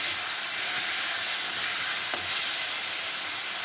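Onion, ginger and garlic paste sizzles and fries in a pan, a loud, steady hiss with faint scraping of stirring, close and continuous with no talking.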